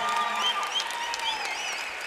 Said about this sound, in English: round of applause for our guy Doug Anderson over here in the blue corner